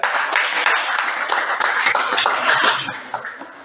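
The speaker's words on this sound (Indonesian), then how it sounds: "Tepuk tangan buat Ibrel." A high school class claps for a classmate, a dense burst of hand claps lasting about three seconds before tapering off, with no talk over it.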